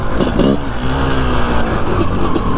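A Honda CR500 dirt bike engine revs hard over rough, rutted terrain, loud and close with a steady rasping two-stroke drone and throttle swells throughout.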